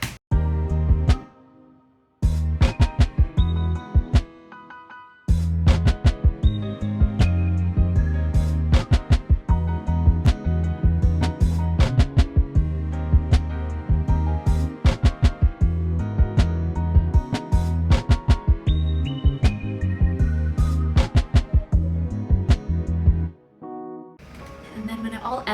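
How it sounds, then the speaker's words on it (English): Piano part from a remake of a song, loud sustained chords and bright repeated notes running steadily with brief drops near the start and a fade at the end. "now I will show you the rest of the piano."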